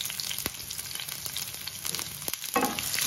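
Sliced onion frying in oil with seasoning seeds, a close crackling sizzle punctuated by a few sharp pops and a brief stirring scrape near the end.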